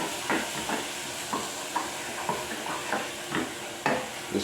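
Ginger, capsicum and green chilli are stirred in a hot pan for egg chilli, with a steady sizzle and regular scraping strokes of a spoon against the pan.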